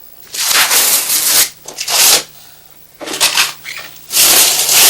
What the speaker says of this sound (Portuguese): Ripping the wallpaper off. She's ripping the wallpaper.